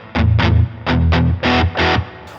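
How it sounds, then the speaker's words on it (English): An overdriven electric guitar, a Gibson Les Paul, plays a short series of distorted chords, each strummed burst ringing briefly before cutting off, loud and close. "Now I switch on the overdrive so you can hear the overdriven tones."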